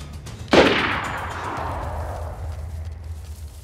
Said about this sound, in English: Seems like they're all shooting at someone at the actual drop.